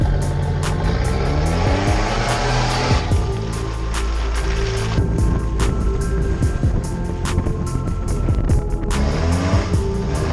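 A modified Mitsubishi Pajero 4x4 drives off-road around a car park, its engine steadily loud and close, with tyre noise and rhythmic clunks and bumps over rough ground throughout.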